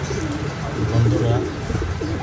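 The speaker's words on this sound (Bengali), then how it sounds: "একজোড়া শেখার পেয়ার কীভাবে নটটা ডাকাডাকি করতেছে আর মাদিটা সাই দিচ্ছে" A pair of pigeons in breeding condition coo back and forth, low throaty burbling calls repeating close by, with a voice talking over them.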